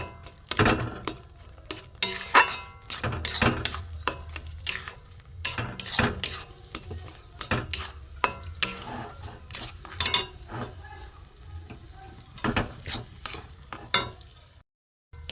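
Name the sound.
stirring semolina dough in a pan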